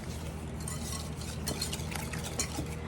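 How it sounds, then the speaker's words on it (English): Oatmeal mixture whisked in a bowl for a pumpkin recipe, a steady scraping, clinking stir running continuously and close by. "I want to whisk this together real quick."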